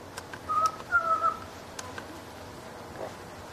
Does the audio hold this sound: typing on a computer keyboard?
no